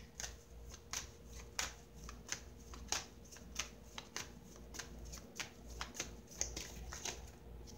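Tarot cards shuffled for a reading, a steady run of crisp riffling bursts close by and fairly quiet, repeating roughly every half second with no talk over them.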